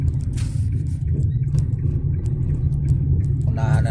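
Car carrier trucks and other traffic on a road, heard as a constant low rumbling engine and road drone from inside a vehicle, with scattered faint clicks and knocks.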